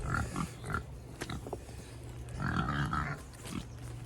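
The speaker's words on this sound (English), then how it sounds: "You can hear in the background my girls that want feeding, my other girls, the pigs." Pigs waiting for their feed grunt and oink in the background, a scattered series of short, rough calls over a low steady hum.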